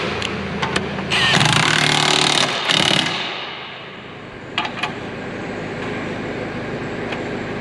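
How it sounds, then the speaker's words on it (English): A power tool tightening bolts on limb risers for a John Deere 850J dozer, with two loud bursts of whirring impact rattle over a running diesel engine idle that continues after the tool stops. "I'll go ahead and tighten up a couple bolts here."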